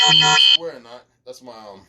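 A loud electronic alarm buzzes steadily for about half a second and then cuts off, followed by someone talking close by.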